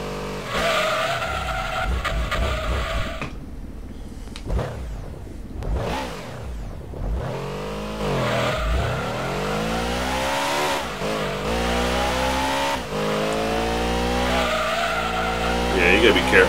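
In Gran Turismo 2, a race car leaves the pits on cold tires: the engine revs up and down through gear changes, with tire squeals and skidding while someone talks over it.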